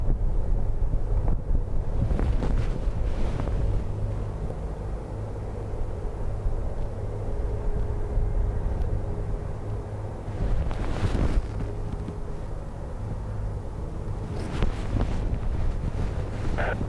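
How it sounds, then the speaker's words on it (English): Strong storm wind buffets a camera microphone outside Dublin Airport, a loud continuous rumbling roar with heavier gusts surging and easing throughout, no voices present. "So I'm trying to position the camera in such a way that the wind stops shaking it"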